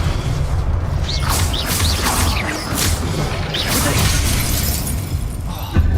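Spell effects fire in the Hogwarts Legacy video game: whooshing casts, bursts and crashing impacts over a dense, continuous game soundscape, loud and steady, with no talking.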